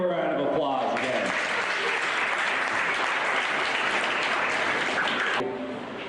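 A crowd at a youth leadership event claps in sustained applause, dense and even for several seconds before cutting off near the end, with voices audible at the start.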